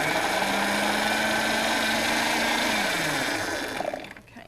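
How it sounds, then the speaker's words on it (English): A food processor purees cooked hominy with a loud, steady whirring motor and a grinding churn that drops in pitch, then winds down and stops at the end. "you can make the entire recipe in the food processor"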